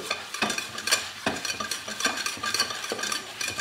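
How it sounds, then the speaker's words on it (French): Butter and flour roux cooks in a pan while a utensil stirs it, giving repeated scraping strokes over a soft, steady sizzle, close and moderately quiet. "on va laisser cuire la farine avec le beurre"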